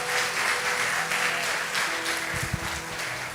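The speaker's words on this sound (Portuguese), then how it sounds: "Dá uma salva de palmas ao Senhor bem forte." A church congregation claps loudly together as a dense, sustained burst of applause, broad and steady throughout, with a few low thumps near the end.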